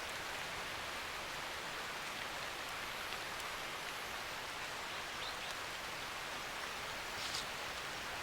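Monsoon rain pours steadily over an Indian forest, a dense, even hiss of countless drops on leaves with no pauses, soft and constant throughout.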